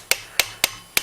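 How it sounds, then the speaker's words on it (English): A hammer lightly taps a shaft down into a Honda Recon 250 motor case: four crisp, separate metallic taps, close and unevenly spaced, with nothing else heard. "sometimes it helps to tap it in just very lightly with a hammer"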